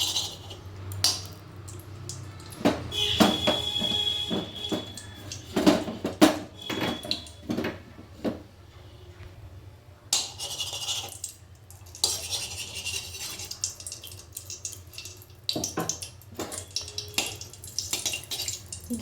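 Ghee and white oil stirred together in a wok with a metal spatula, scraping and clinking against the pan in irregular bursts, with faint sizzling and occasional water-like sounds underneath.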